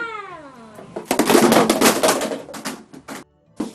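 A cat sound effect in a children's stage play gives one drawn-out meow, followed by loud clattering knocks and bangs.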